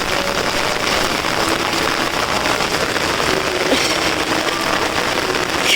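Steady, heavy rain pattering close by, a continuous hiss of drops with no voices.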